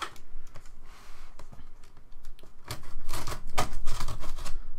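Scissors slice through the seams of an Oculus Rift DK2 box, giving a close run of sharp, irregular snips and crackles that grows denser and louder toward the end, with no talk.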